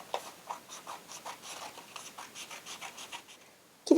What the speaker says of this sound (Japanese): 紙を帯状に切っていきます。